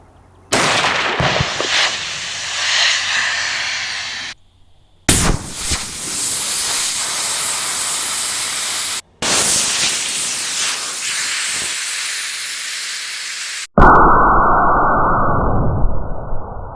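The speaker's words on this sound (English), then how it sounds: "gonna pop off and let the scuba tank fly" A pressurized scuba tank is released and vents to shoot off like a rocket: loud, harsh roaring hiss bursts separated by brief cuts, ending in a sustained duller rushing blast, with no voices.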